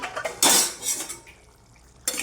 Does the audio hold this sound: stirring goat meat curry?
yes